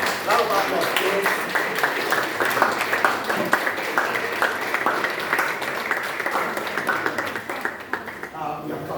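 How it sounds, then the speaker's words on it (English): An audience at an academic talk on teaching digital literature claps in a round of applause, brisk and fairly close, with a voice speaking over the clapping as it thins out. "Round of applause, please."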